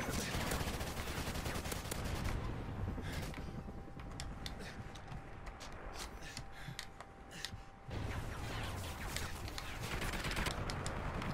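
A sentry gun fires in Call of Duty: Ghosts, loud rapid automatic bursts layered over a constant gunfight din, easing briefly midway before another heavy burst returns.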